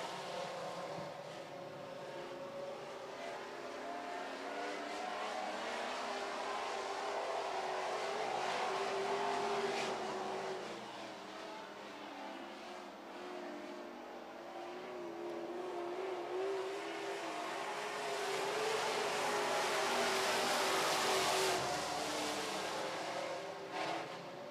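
Super trucks racing around a track, a steady far-off roar of several engines that swells and fades as the pack passes, with no voices.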